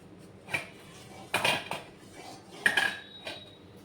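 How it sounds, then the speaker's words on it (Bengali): Cashews are stirred in a hot wok with a utensil, giving a few separate metallic scrapes and clinks at irregular intervals, close and moderately loud against a quiet background. "এবার কাজুগুলোকে ভালো করে নেড়ে চেড়ে নেব"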